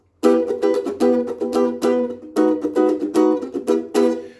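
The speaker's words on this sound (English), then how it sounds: "let's play the introduction once through" A ukulele strums a bright, rhythmic pattern of chords, each strum crisp and ringing, played alone at a steady moderate tempo.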